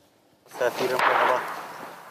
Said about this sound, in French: Les premiers tirs résonnent.